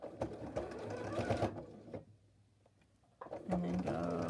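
A sewing machine stitches back and forth across a quilted pumpkin pot holder, rapid mechanical whirring bursts that pause briefly and resume, close and moderately loud, with a voice speaking at points.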